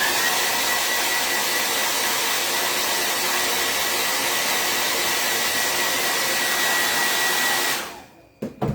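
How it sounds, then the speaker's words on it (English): A blow dryer runs steadily and loud for about eight seconds, drying a craft project (a vintage truck piece), then switches off abruptly, followed by a couple of brief handling knocks. "Blow dryer again."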